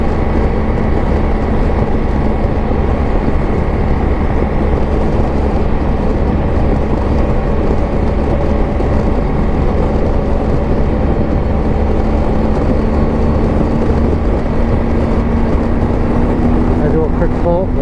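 A BMW R1250 GSA motorcycle rides back-country roads in fourth gear at about 4,500 rpm, giving a loud, continuous engine drone with rising pitch under heavy wind noise.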